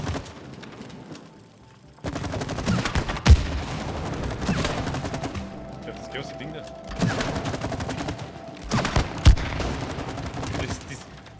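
Rapid bursts of gunfire ring out at a shooting range in the video game It Takes Two, loud clusters of shots broken by short gaps and a few heavy booms, while players talk over the shooting.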